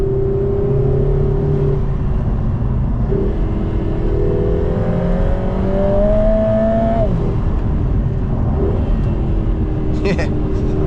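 2024 Lotus Emira 2.0T engine in track mode on a drive, a steady droning hum heard from inside the cabin that climbs in pitch through a gear, then drops, with a faint chatter near the end.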